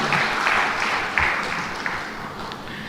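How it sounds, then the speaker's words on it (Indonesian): Crowd applause at a government launch event for a sign-language literacy movement in South Sumatra, a dense steady clatter of many hands filling the room throughout, with a few sharper claps standing out. "Tepuk tangan untuk kerja keras ini."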